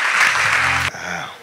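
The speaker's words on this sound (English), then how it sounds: "With a round of applause, please, let's welcome." Audience applause welcoming a speaker from WHO to a critical care nurses' event, a dense burst of clapping that cuts off sharply and gives way to a quieter voice.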